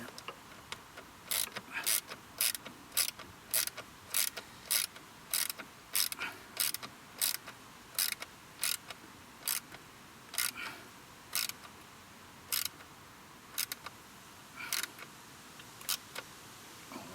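Ratchet tightening bolts on a hugger fitted to a 2019 Kawasaki Z900 RS, heard as short rapid clicking bursts that repeat in an even rhythm, close by and without talk.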